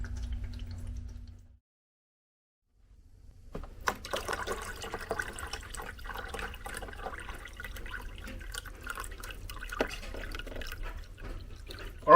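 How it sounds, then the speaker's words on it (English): Water pours into the reservoir of an Aerogarden indoor herb garden, a steady close trickle and splash running for several seconds after a short pause, with small drips and handling clatter. "we just refilled all the water and we're putting in our plant food"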